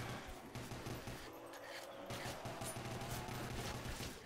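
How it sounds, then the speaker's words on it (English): Pistol shots crackle in a custom zombies video game map, a dense run of gunfire over continuous game noise and background music. "We're just wasting our pistols."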